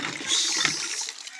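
A brief, fairly loud gush of running water splashing during washing, tapering off after about a second.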